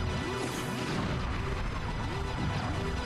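Bombs going off in the Star Fox 64 video game, a dense run of booming, crashing blasts repeating steadily over a loud, continuous game soundtrack with no pause.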